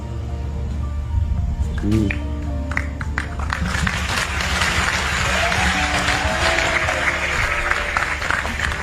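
A large crowd at a religious discourse gathering applauds, a broad sustained wash of clapping that builds and holds at moderate loudness beneath a hum of background noise and brief voices.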